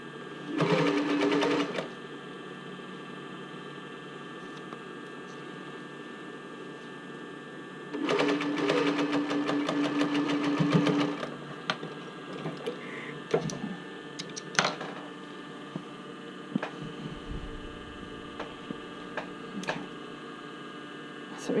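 A sewing machine stitches a band onto a swim top in two quick bursts of rapid mechanical chatter, with quieter room hum, small handling clicks and a few soft thumps between them.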